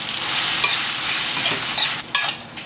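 Peas and chopped capsicum stirred in a hot frying pan for capsicum rice, a steady close sizzle with scraping stirs and a couple of sharper knocks of the spoon near the end, no voices.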